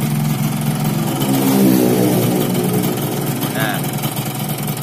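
A Yamaha RX King two-stroke motorcycle engine idles and revs with a rough, crackling exhaust, someone talking over the running engine.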